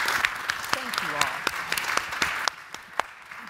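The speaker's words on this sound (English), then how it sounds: "Let's give them another round of applause." Applause from an audience at an annual dinner forum, steady clapping with a few sharp individual claps standing out, while someone speaks over it before the clapping thins out near the end.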